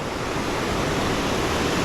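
Fast floodwater rushes past during a 1000-year flood, a loud, steady, unbroken roar mixed with some wind noise and no breaks.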